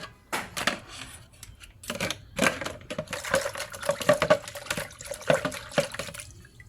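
Water rinses over mountain bike brake pads in a run of splashy, uneven bursts, close up and fairly loud, with no one talking.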